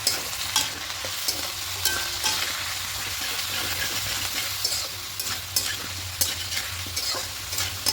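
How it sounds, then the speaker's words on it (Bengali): Spice paste for a thin tilapia fish curry with papaya and potato being fried in a pan, a continuous crackling sizzle broken by repeated spatula scrapes and taps at an uneven pace, close and alone without talk. "এইভাবে দু তিন মিনিট একটু মশলাটা কষিয়ে নেব"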